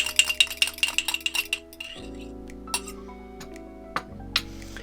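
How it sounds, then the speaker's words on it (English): A small fork whisks an egg yolk with garlic and anchovies in a bowl for Caesar dressing: a quick run of bright, close metallic clinks for about two seconds, then the clinking stops and a steady tonal hum carries on. "take a little fork and just stir this around really to get that egg yolk to break up and to get it all mixed up with the garlic and anchovies"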